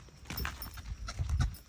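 Horse hooves clip-clop at a quick uneven pace at an ashram, fairly close, with a rider urging the horse on between steps.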